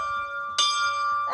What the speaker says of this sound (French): Oh, il y a une cloche.